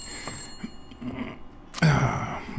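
A telephone ringing in the Blacksad video game: a short bright ring bursts in near the end after quieter game background, fairly loud and close.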